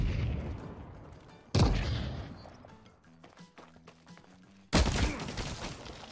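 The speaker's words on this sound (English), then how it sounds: "Okay, I'm throwing two nades." Two video game grenades burst in turn, each a sudden loud blast with a rumbling tail, about three seconds apart, with faint clicks and game sounds in between and no talking.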